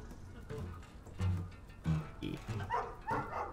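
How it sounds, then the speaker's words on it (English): A cartoonish dog in the video game Night in the Woods gives a few short, yappy barks amid other game sounds, fairly close and moderately loud. "I love that dog."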